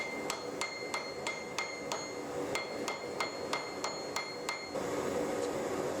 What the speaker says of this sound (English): the cable is taken to the anvil, where it is tapped gently to further set the welds between the strands